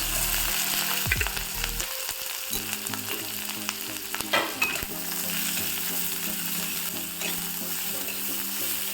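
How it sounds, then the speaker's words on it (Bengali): Green chili and onion drop into hot oil and fry with a loud, continuous crackling sizzle, broken by brief stirring scrapes and clanks up close, no talk. "এবার এই তেলে দিয়ে দিব লঙ্কা দিয়ে দেবো পেঁয়াজ"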